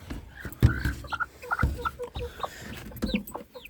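Several chickens cluck and murmur nearby, short irregular calls overlapping one another, with some higher squawks mixed in.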